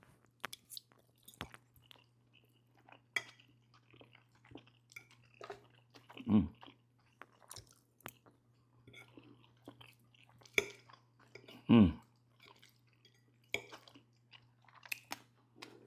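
Chewing on tricolor jerk chicken pasta, with soft, wet chomps and squishy bites spread through the stretch and two louder, closer crunches standing out, over a low steady hum.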